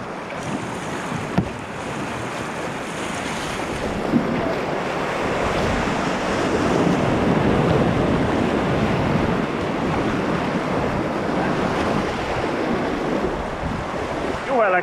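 Waves and wind-buffeted water surge steadily around a kayak paddling near Sindi, a broad continuous wash with occasional sharp knocks, close and fairly loud, with faint voices in the background.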